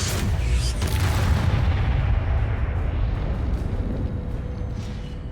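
A Confringo spell explosion in Hogwarts Legacy gives a loud, deep booming blast with a crackling burst near the start. It rumbles and then slowly fades into a low tail.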